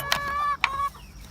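Two short, bright clucks from a chicken, close and clear with a brief pause between them, over a low background hum.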